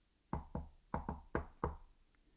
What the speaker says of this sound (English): do a little knock